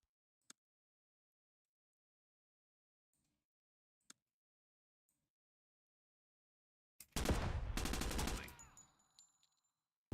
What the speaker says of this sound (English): Shots inside somewhere.